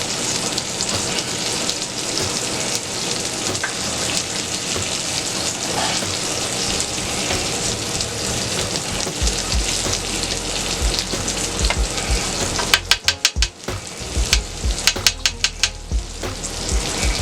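Mushrooms seasoned with salt and pepper fry in a pan with garlic butter, giving a dense, steady sizzle throughout, joined late by a few sharp clinks and scrapes of a utensil close by.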